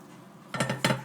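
A metal saucepan knocks and clinks against other pots while something is poured from it in a home kitchen during couscous preparation, two short close clanks after a quiet stretch.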